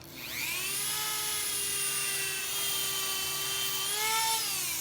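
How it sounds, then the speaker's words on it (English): A handheld grinder runs steadily at high speed, loud and close, holding a sustained whine with a slight pitch dip and rise near the end, no voices over it. "I was talking about this grinder"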